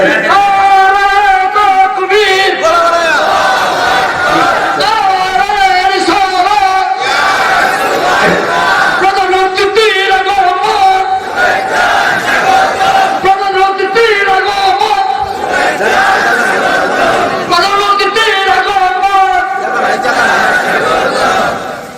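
A large crowd at a religious gathering roars a takbir chant in unison, loud and sustained, with repeated swelling call-and-response phrases over about twenty seconds.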